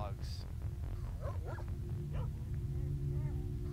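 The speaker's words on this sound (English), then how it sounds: "These dogs." Dogs barking and yipping in STALKER: Shadow of Chernobyl, a few short barks and whimpers over a steady low game ambience hum, with someone talking over them.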